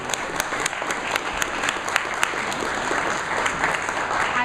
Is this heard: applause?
yes